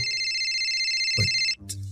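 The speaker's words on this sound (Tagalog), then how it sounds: "Tumatawag si nanay." A mobile phone rings with an incoming call during a Filipino radio drama, its electronic ringtone repeating a bright, steady melodic pattern, clear and close, with a brief break near the end.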